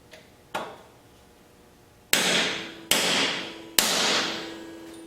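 Rivets are hammered on an EH Scott Philharmonic radio chassis: one light tap, then three loud ringing metal blows spaced under a second apart, each with a long decaying ring, up close.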